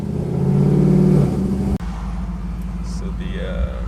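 A cammed Chevrolet Silverado pickup engine roars at high revs up to 6,600 RPM, holding a strained, steady drone before the pitch abruptly drops and settles into a lower rumbling idle.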